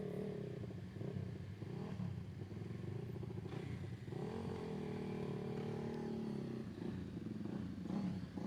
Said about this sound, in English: Looks like we got a Suzuki rolling up.